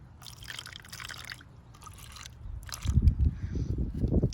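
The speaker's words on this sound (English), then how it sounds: "I'm just gonna take some water and just drop some in the cups" Water drips and trickles into small cups of paint being thinned for a splatter painting. Light, scattered patters come first, then a louder, fuller splashing toward the end, with no voices.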